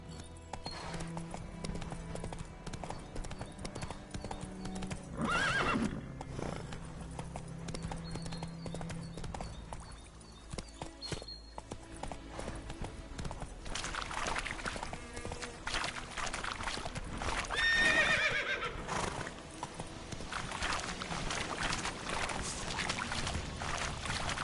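Roach, a horse in The Witcher 3, trots with steady clip-clop hoofbeats throughout, joined by a brief whinny near the middle, with faint splashing and ambient game sound underneath.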